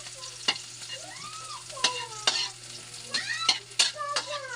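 Pancit ingredients sauté in a hot pan, with scraping stirs and sizzling bursts recurring irregularly, close and fairly quiet.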